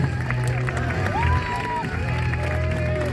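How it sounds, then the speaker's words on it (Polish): Crowd applause and cheering fill the hall for the announced winner at a boxing tournament final, a steady dense wash of clapping with a voice speaking over it. "Wielkie brawa dla niego"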